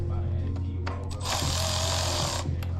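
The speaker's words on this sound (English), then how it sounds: "So snugly, I'm going to use my ratchet." Ratchet snugging the screws on a Honda intake manifold during a swap on a 2011 Honda CR-Z, a brief burst of close, rapid clicking over a steady low hum with a few knocks.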